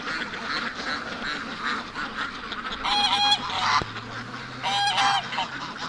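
A goose at a backyard poultry pen gives loud, nasal honks in two separate bursts, close by over a soft outdoor background.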